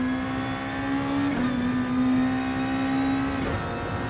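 Race car engines drone in a Gran Turismo daily race at the Nürburgring GP, with a steady high-pitched engine whine that holds, shifts pitch and continues, loud and continuous without talk.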